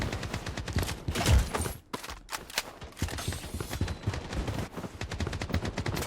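Shotgun blasts and other gunfire in the shooter game Blood Strike: dense, repeated loud shots crowding together, with one brief lull before the firing resumes steadily.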